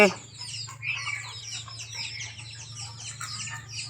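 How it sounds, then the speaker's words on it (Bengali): Native deshi chickens released from their coop cluck and chirp in quick, overlapping bursts, fairly close, over a steady low hum. "বাকিগুলোকে আমি মুরগির ঘর থেকে এখন ছাড়লাম"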